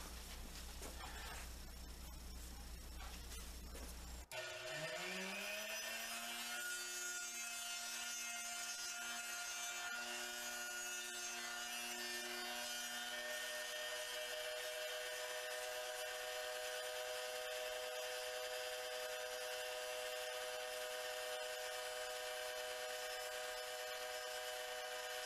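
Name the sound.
wooden arrow shaft tapered to a point with a taper tool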